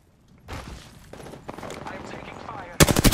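Gunfire bursts in the video game Apex Legends, a loud rapid burst near the end following quieter firing and in-game noise, with a player talking over it.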